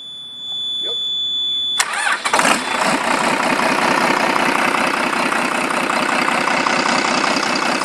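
A Cummins 6BTA 260 marine diesel engine cranks and fires after a quiet start, then settles into a loud, steady, close-up running clatter.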